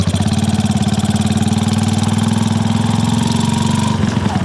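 Loud, close motorcycle engine with a small cone-shaped exhaust pipe, a rapid throbbing putter held steady, then shifting slightly near the end.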